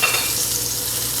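Skin-side-down meat pan-fries as its fat renders, producing a loud, dense, unbroken sizzle close by with no voices.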